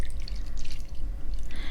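Water trickles and drips steadily into a container as a cup of water is poured for a mixed fertilizer solution for amaryllis bulbs, with faint splashy sounds and no talking.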